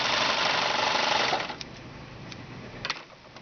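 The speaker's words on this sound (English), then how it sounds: "Serge down that side edge." A serger sewing machine runs steadily, stitching down the side edge of fabric for a quick quilt, a close continuous whir that stops after about a second and a half, leaving soft handling noises.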